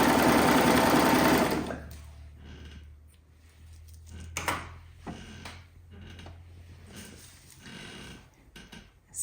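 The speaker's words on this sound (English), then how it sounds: "When I get to this point, I'm just gonna pull it this way and serge off." A serger overlock sewing machine stitching gathered fabric, a loud fast mechanical whir for about two seconds, then stops, followed by quiet handling clicks and rustles.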